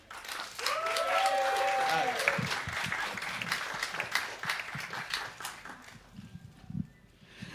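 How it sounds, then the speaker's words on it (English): Steady applause from an audience, sustained and fairly loud for several seconds, then tapering off as scattered voices and stray claps remain. "Please start clapping for Shabum."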